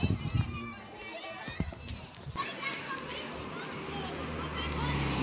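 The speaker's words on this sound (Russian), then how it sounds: "Детишек привезли к нам" Children playing and chattering outdoors as a group of kids arrives for a holiday celebration, a busy continuous crowd of young voices with occasional shouts that swell louder toward the end.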